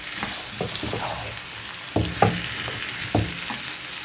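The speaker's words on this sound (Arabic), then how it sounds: "شوحنا بقى البصل مع الفلفل الاخضر والفلفل الاحمر" Onion with green and red peppers sautéing in a pan, a low steady sizzle punctuated by several distinct scraping stirs, close and with no voices.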